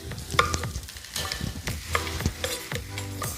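Fresh greenhouse-grown tomatoes and onions frying in a pan, a steady close sizzle broken by repeated scrapes and stirring clatters, with no voices.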